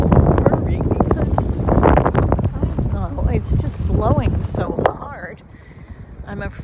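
Strong wind buffets a boat at anchor with loud, rumbling gusts against the microphone. A voice talks through the wind, and the wind eases noticeably near the end.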